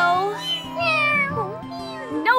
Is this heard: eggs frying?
no